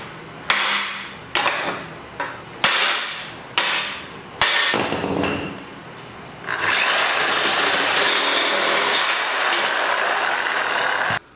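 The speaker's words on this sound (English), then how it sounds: "They just broke when I hit them with a hammer." A hammer strikes the welds on a Bonanza Nugget mini bike frame: about six loud, sharp metallic blows at an uneven pace, followed by a steady harsh mechanical roar. No one speaks.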